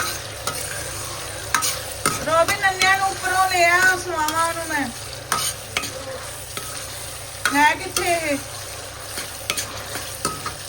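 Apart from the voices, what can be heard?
tempering (tadka) of tomatoes, ginger, green chilies, garlic for saag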